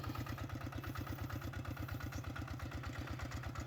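A farm tractor engine chugs steadily in a fast, even rhythm, close and loud, with a clattering mechanical edge and no talking, at rice-planting season.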